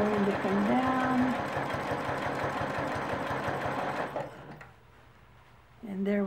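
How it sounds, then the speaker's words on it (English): A quilting sewing machine stitches along earlier quilting lines in a fast steady mechanical chatter that runs for about four seconds and then stops, with someone talking over it. "I'm going to stitch right along my previous stitches"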